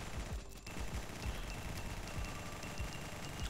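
Continuous rapid gunfire from the video game Guncraft Survivors, a dense, steady stream of overlapping shots with regular low thumps, sustained and loud throughout without pause.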